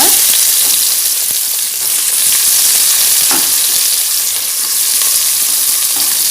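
Onions sizzle and fry steadily in a hot pan with spices for mushroom biryani, a loud continuous crackle up close with occasional stirring scrapes and no talking.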